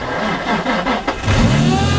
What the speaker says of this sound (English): So let's just see if this car starts.